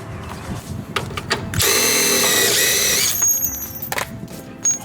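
An impact or ratchet tool whirs in a loud sustained burst on the top 14 mm bolts of a drift Miata's coilover, with shorter mechanical clicks and clanks before and after it.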